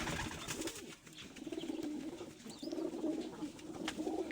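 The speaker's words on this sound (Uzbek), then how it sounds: "bu yerda ammo ko'p kaptar" Pigeons coo in low, rounded, repeated calls throughout, a steady murmur of several birds close by with no talk over them.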